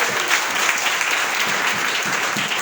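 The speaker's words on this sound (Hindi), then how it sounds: "एक बार जोरदार ताली साहब" Loud applause from a crowd at a home marketing-plan meeting, a dense, steady patter of many hands clapping together for a couple of seconds without speech.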